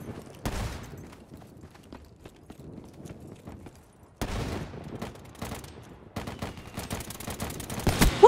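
Sporadic shots in Call of Duty Black Ops 3, sharp isolated cracks spread across a quiet stretch, followed by a denser run of rapid impacts and bursts toward the end, moderately loud.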